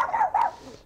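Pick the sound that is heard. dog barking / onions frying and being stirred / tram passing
dog barking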